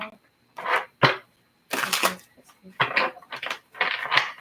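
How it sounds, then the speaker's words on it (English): Tarot cards are shuffled in several quick, crisp riffling bursts separated by short pauses, close and clear, with a person speaking around them. "Last shuffle."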